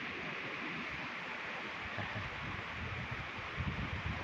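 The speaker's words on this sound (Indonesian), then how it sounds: "Keadaan hujan besar, angin disertai angin." Heavy rain and wind in a mountain forest near Batu Nini on the Limbangan route in Garut, heard as a steady, dense broadband roar of falling water and gusts that swells slightly toward the end, with no voices.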